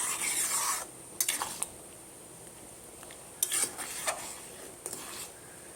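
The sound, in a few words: stirring daliya cooking in a pot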